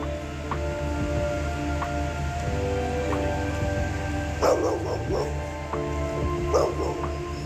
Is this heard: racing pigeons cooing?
no